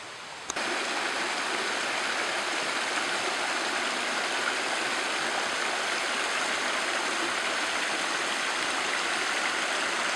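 A small mountain stream called Shipot flows steadily on the way to the Prelukа meadow in the Carpathians, a loud, constant broadband rush of water without pause, heard close by and alone after a brief quiet start.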